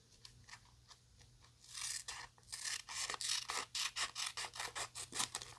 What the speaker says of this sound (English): let me trim this off a little bit better